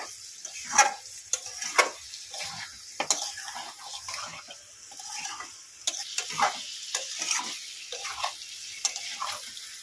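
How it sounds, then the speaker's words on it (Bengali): Meat stir-fried down in a pan for a Bengali-style curry, with a soft steady sizzle broken by sharp scraping strokes of a spatula at a quick irregular rhythm, close and fairly quiet, with no voices. "ভালো করে একটু কষিয়ে নেব মাংসটা।"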